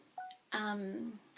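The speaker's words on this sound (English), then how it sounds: "that's my phone just going off if you heard that" Mobile phone notification going off nearby, a short tonal electronic chime that sounds briefly on its own.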